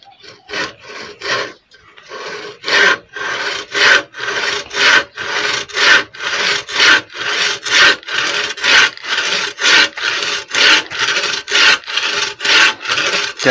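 A hand saw cuts through wood in steady, rhythmic back-and-forth strokes, loud and close, after a few quick starting strokes and a brief pause.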